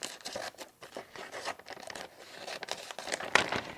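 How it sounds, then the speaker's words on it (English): Scissors trim the edges of a Cricut vinyl sign, giving soft, irregular crinkling snips and rustles of the vinyl sheet. The cutting is close-up and fairly quiet, with no talking. "we're going to go ahead and get in here with some scissors, and we're going to trim the sides here of our sign"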